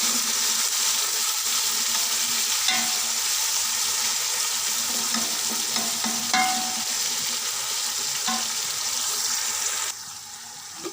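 Masala frying and being stirred in a pan for sabzi pulao, a steady loud sizzle with scraping stirs and occasional clinks of the spoon, the frying hiss dropping suddenly near the end.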